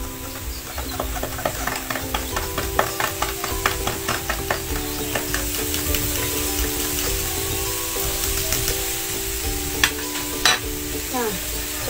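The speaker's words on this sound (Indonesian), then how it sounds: "Lalu aduk hingga homogen." A spoon clinks rapidly against the inside of a glass of salt solution, a quick rhythmic stirring that slows and stops, then resumes briefly with a few louder taps.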